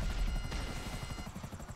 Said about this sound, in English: Yes, I think I worked it out that it's a helicopter